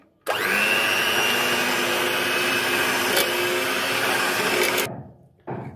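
An electric beater whirs steadily through tea cake batter, a loud, even motor drone that starts abruptly, runs for several seconds, cuts out, then briefly starts again.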